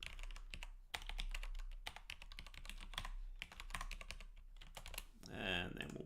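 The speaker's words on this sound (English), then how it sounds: "I can type that one in" Fingers type on a computer keyboard in quick, close, irregular clicking bursts with brief pauses, under faint talk.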